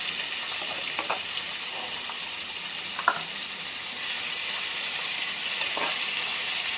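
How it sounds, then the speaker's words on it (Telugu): Onions and green chillies fry in a pan over a high flame, producing a loud, continuous sizzle close by with occasional stirring scrapes and no speech. "ఉల్లిపాయలను ఎప్పుడు హై ఫ్లేమ్లోనే వేయించుకోవాలి"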